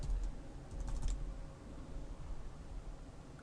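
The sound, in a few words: typing a password on a computer keyboard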